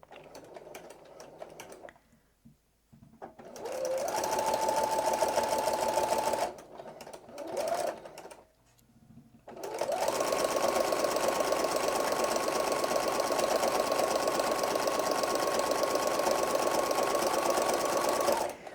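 A sewing machine fitted with a walking foot and a new needle stitches a homespun fabric rag quilt, running in long steady whirring bursts that pause and restart, close and loud, with a short back stitch at the end.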